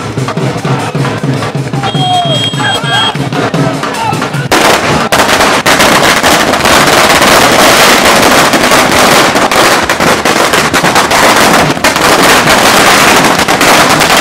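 Firecrackers going off at a celebration outside a Congress party office: an opening stretch of crowd noise, then a long, loud, continuous chain of rapid close bangs and crackles that fills the rest.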